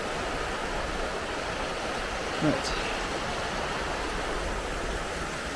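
Swift, high water of the River Spey pours by in a steady close-up wash, with a single short spoken word cutting briefly through midway.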